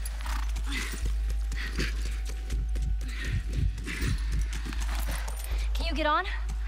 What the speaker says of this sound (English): Just get the horse.